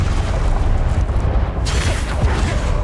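Incendio fire spell cast in the Hogwarts Legacy video game, a loud, dense whooshing burst of flame over booming rumble, with a bright flare partway through amid continuous combat noise.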